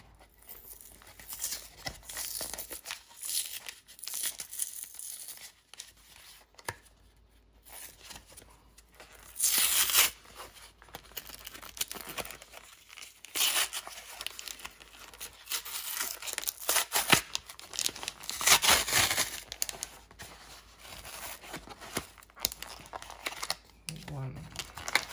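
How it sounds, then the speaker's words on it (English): A Pokémon trading card booster pack is torn open and its foil wrapper crinkled, with bursts of tearing and rustling between quieter stretches while a person talks. "I'm just gonna open another pack because I didn't get any white cards"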